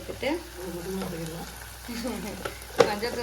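Ingredients for a fish curry sautéing in a pan, a low sizzle running under a woman's speech, with a sharp clatter of stirring near the end.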